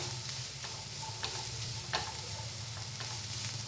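Onion and capsicum sizzle and fry steadily in a pan for a soup, with occasional scraping clicks of a spatula stirring, close up and without speech.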